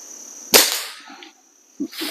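A single sharp shot from a lightweight Diana 250 air rifle cracks loudly and close, followed by a short decaying tail and a quieter mechanical click or two afterward.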